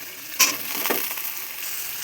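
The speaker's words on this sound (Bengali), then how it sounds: "এবার দিয়ে দেবো আলুটা ভেজে নেব।" Potatoes frying in a pan after onions, salted, give off a steady close sizzle with a sharp hiss as they hit the oil, then a softer crackle.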